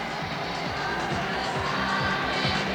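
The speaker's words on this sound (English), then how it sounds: "Probably you can just about hear the crowd shouting out their welcome to every team." A stadium crowd at the 2002 Manchester Commonwealth Games opening ceremony shouts and cheers in welcome as athletes parade, a dense continuous roar heard at a distance.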